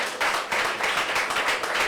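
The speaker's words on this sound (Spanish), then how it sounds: "Un aplauso a Cristo." A church congregation breaks into brief applause, a steady patter of clapping hands at moderate loudness lasting under two seconds, with no talk over it.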